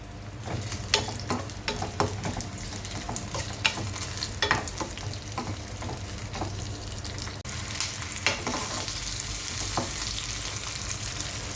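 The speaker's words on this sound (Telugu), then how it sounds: "ఆయిల్ వేడైన తర్వాత దాల్చిన చెక్క, లవంగాలు, ఉల్లిపాయ ముక్కలు, పచ్చిమిర్చి వేసుకోవాలి." Cinnamon, cloves, sliced onions and green chillies frying in hot oil for mushroom masala curry: a continuous crackling sizzle broken by repeated spoon stirs and scrapes against the pan.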